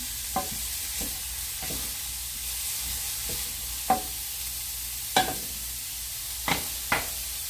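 Thanksgiving stuffing cooking down in a pan under a steady, airy sizzle, punctuated by several sharp, isolated knocks and scrapes of a utensil spaced a second or so apart.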